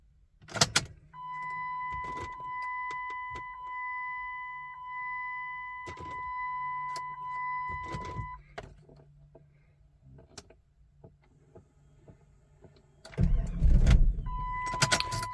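A 1998 Jeep Grand Cherokee with the 5.9 engine, suspected of starving for fuel, cranks with a steady whirring drone for several seconds, then again after a pause, ending in a louder burst as it briefly catches.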